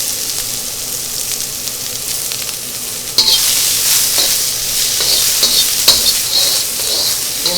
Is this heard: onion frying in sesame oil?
yes